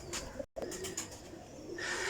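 Breeder pigeons coo softly in a loft, brief low murmuring calls with a short gap, faint and close, no talking.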